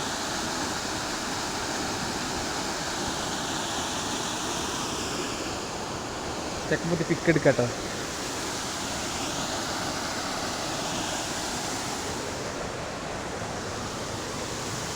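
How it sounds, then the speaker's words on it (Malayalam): The hidden Anakkundu waterfall in Meppadi, Wayanad, gives off a steady, even roar of rushing water that fills the whole scene. A voice speaks briefly partway through. "ഹിഡനായി കിടക്കുന്ന കിടിലെ വാട്ടർഫോൾസാണ്"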